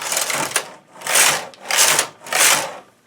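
A bulky knitting machine with ribber works English rib with five needles: four distinct swishing carriage passes, each a rising and fading rasp, separated by short pauses, with no talk.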